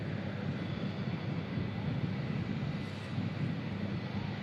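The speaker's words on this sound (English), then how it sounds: "Iceland Air 757 touches down nicely here at Manchester Airport." A 24-year-old Icelandair Boeing 757 arriving from Reykjavik and touching down at Manchester Airport, a steady broad engine roar with wind noise, heard from a distance at moderate level.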